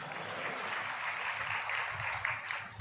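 A congregation at a Christian prayer gathering claps together. The applause is thin, steady and fairly distant, a faint wash of hand claps that continues unbroken throughout.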